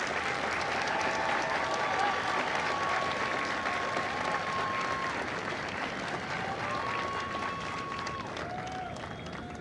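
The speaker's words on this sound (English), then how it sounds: "please join me in a round of applause for the company staff of Company A" Sustained applause from a large crowd at a Marine Corps Recruit Depot San Diego graduation ceremony, steady clapping throughout, with faint voices and a few whistles mixed in.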